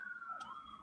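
An emergency siren outside wails faintly with a steady, sustained high tone, heard alone in the background.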